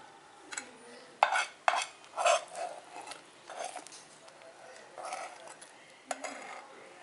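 Flour is stirred into hot syrup in a pan for Tamil sweet balls (porivilangai urundai). A spoon scrapes and clinks against the vessel in irregular soft strokes, fairly faint, with quiet room noise around it.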